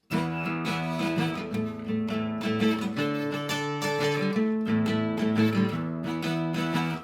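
An electric guitar plays a chugging power-chord riff, repeated chords rhythmic and sustained, with shifting chord shapes and no voices.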